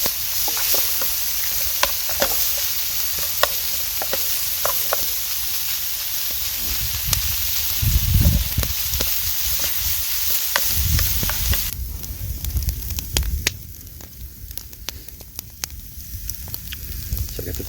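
Vegetables sizzle on a grill at a winter campsite, a close, steady frying hiss with scattered crackles and utensil clicks, easing toward the end.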